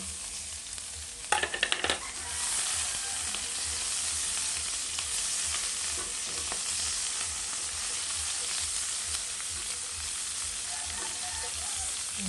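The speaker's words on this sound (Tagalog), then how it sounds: "Gisahin muna natin yung ating garlic. Saka red onion." Garlic and red onion sautéing in a pan for stir-fried sponge gourd and egg: a steady close sizzle with a brief burst of stirring clatter near the start, then even frying throughout.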